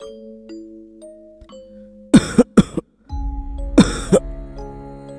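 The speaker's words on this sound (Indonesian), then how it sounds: "mendengar suara batuk seseorang dari samping rumah" Three harsh coughs, two quick ones then a louder single cough after a pause, over a soft chiming tone in the background.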